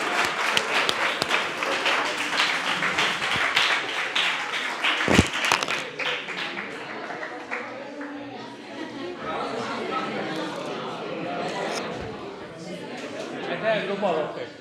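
Applause from a seminar audience, dense clapping that is loud at first and then thins into scattered claps mixed with crowd chatter and talking, with a sharp knock partway through.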